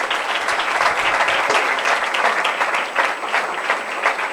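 Applause from a church congregation at a Sunday service welcomes a guest to the front, a steady wash of many hands clapping loudly and continuously without any speech.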